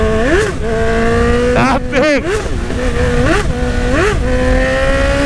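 A motorcycle engine in a video game revs loud and close in repeated rising and falling surges, with someone talking over it.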